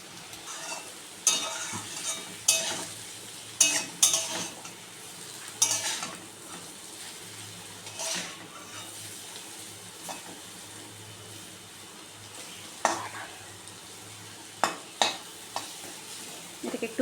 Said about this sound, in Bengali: এবার আমি চাউমিনটা দিয়ে দিচ্ছি।